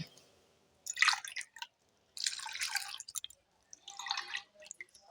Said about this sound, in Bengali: এই কৌটোটা ধুয়ে জলটা দিয়ে দেব দিয়ে আরও এইভাবে ছেঁকে নেব আর দিয়ে দেব দু কাপ জল